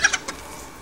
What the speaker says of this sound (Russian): Цыплятки с удовольствием копаются, ковыряются.